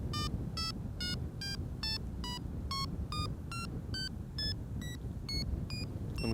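A Catsounder fishing bite alarm sounds a series of short electronic beeps in a steady rhythm, its tone stepping from low to high pitch, fairly faint over a low background rumble.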